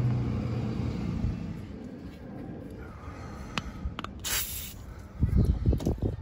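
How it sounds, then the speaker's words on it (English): Short hissing bursts of penetrating lubricant sprayed onto a stuck part of a Buick Grand National, close and brief, amid low engine-like rumble and faint background noise. "let me go ahead and spray this down and let it sit for a while"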